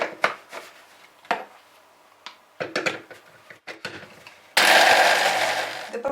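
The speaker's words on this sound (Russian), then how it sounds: "Теперь в мельнице перемалываем огурец" Sparse taps and clatters give way to a small electric food chopper grinding salted cucumber, a sudden loud buzzing whir that runs steadily to the end.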